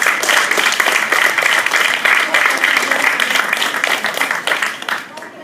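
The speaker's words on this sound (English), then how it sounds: "everyone give Pauline a big round of applause" An audience at a virtual reality demonstration event applauds loudly, with dense, close clapping that stays even for several seconds and then tapers off at the end.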